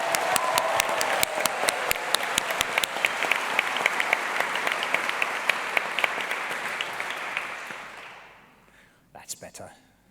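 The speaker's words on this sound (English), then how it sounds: "Let's give everyone a big round of applause." An audience claps during a university ceremony in a chapel, a full sustained round of applause with crisp individual claps that fades out, followed by a few scattered final claps.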